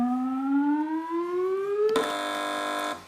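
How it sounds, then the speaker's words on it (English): A quiz show buzzer sounds on a TV panel game: a rising electronic tone sweeps upward, then switches abruptly to a loud flat harsh buzz that holds for about a second before cutting off. "Fingers on buzzers, teams."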